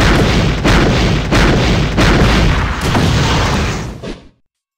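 Spirit attack explosions go off in Rumble Fighter, a loud, heavy barrage of booming blasts pulsing in several waves before cutting abruptly to silence.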